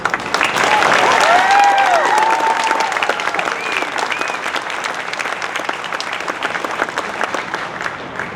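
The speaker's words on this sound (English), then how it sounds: "Please give all of the graduating class a very deserving round of applause" A large crowd applauds graduating soldiers at an Army basic combat training graduation ceremony at Fort Sill, Oklahoma, with steady dense clapping and a few whoops rising early before the clapping thins slightly.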